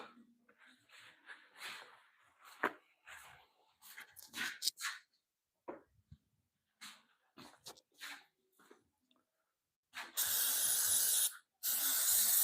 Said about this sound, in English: Let me spray a little bit of this off here.